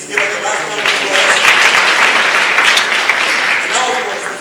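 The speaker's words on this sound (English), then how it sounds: "please give us the last round of applause." Audience applause at a live innovation competition event, clapping swelling quickly and holding steady, then easing slightly near the end, with faint voices mixed in.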